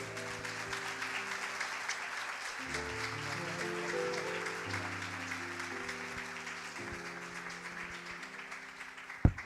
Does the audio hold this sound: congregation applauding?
yes